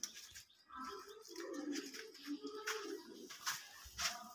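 A pigeon in a loft gives soft, low, rolling coos, faint and close, with light rustling and other bird sounds around it.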